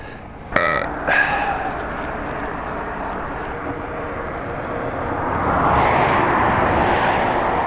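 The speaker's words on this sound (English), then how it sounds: "This guy's up here paragliding. He's got a little paramotor on him." A paraglider's small paramotor engine drones steadily overhead, growing louder toward the end. A couple of sharp knocks sound near the start.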